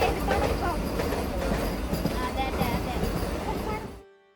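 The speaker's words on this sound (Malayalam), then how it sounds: "അങ്ങനെ ട്രെയിനൊക്കെ വന്ന് നമ്മൾ കയറി." A MEMU passenger train bound for Kochi rumbles steadily with dense, loud broadband running noise and faint background voices, then cuts off abruptly near the end.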